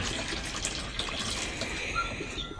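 Water running hard from a shower at a riverside campsite, a steady close hiss and splash with no talk.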